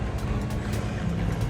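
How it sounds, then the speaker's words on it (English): Steady low rumble of a 2015 BMW 328i engine idling, constant and close with no change in pitch or level. "Well, the car's running, so can't open the trunk just yet."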